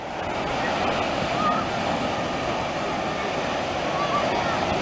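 Sea waves roll and break continuously on a Black Sea beach in Bulgaria on a summer day, a loud, steady wash of surf with no pause and no talking.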